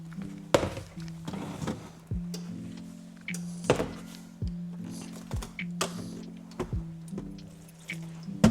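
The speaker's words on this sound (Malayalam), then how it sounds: "നല്ലോണം വെള്ളം ഒഴിച്ചിട്ട് കുഴച്ചെടുത്ത് വയ്ക്കാം." Chapati dough of wheat flour, salt and water being kneaded by hand in a kitchen, with soft, repeated thuds and squishes at an uneven rhythm, close and fairly quiet.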